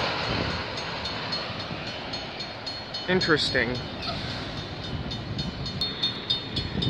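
A CP mixed freight train rolls past at a street crossing with a steady close rumble and wheel clatter, and a brief higher screech partway through; one short spoken word.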